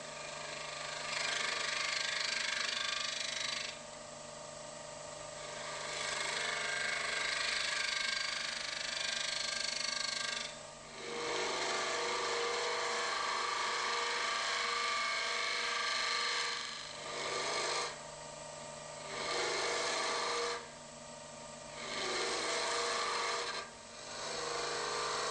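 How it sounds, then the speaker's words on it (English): A hollowing tool cuts the cup shape of a wooden goblet on a lathe, a steady loud rasping scrape that runs continuously in long passes, broken by several brief pauses as the tool is lifted. "Hollow out the cup shape of the goblet with a hollowing tool to a depth of approximately 1 inch"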